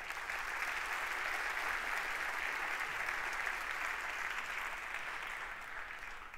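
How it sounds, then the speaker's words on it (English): Audience applause for partners and sponsors at a live concert in the Dubai Opera, a broad, even wash of many hands clapping, heard at a distance and slowly easing off. "Let us give our partner and sponsors a big round of applause."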